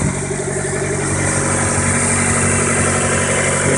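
A 1994 Mazda MX-3 engine idles close by, loud, smooth and steady, a continuous hum and rumble with no talking over it.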